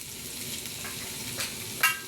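Onions frying in a pan, a quiet, steady sizzle with a soft stirring scrape near the end.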